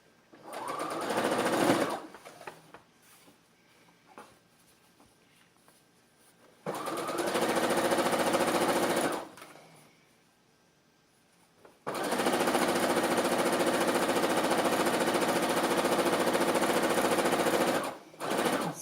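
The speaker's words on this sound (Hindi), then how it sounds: "दोनों साइड से इसी प्रकार सिलाई लगाएंगे।" An electric sewing machine stitches the seams of a baby frock in three bursts, a short one, a medium run and a long steady run, with quiet pauses between them.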